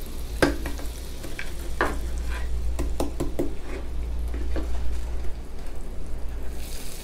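Butter and brown sugar melting together in a pan while a utensil stirs and scrapes, with steady soft sizzling and scattered knocks against the pan, heard alone with no talk, for a banana Foster topping.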